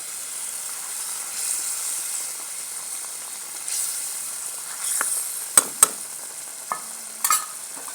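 A low, steady sizzle of masala tempering simmering in a pan, broken by a few sharp clicks of a spoon stirring.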